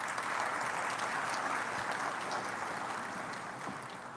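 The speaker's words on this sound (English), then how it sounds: "I think that deserves a round of applause." Sustained applause fills a university graduation ceremony, a dense crowd clapping at moderate distance that gradually tapers off.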